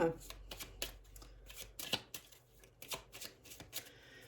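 Tarot cards are shuffled and split into piles in a rapid series of short riffling and slapping bursts, close by, with a voice talking over them.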